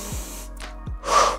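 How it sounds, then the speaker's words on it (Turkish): Sharp breaths drawn in and pushed out during an abdominal workout: a couple of brief gasps or snorts, then a stronger breathy exhale, close and fairly clear with no talk. "Nefes aldım. Nefes ver."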